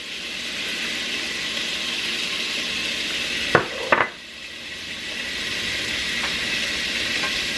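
Garlic sizzles in a hot pan with beef tips, a steady loud hiss of frying with a couple of sharp clanks from stirring midway before the sizzle settles and continues.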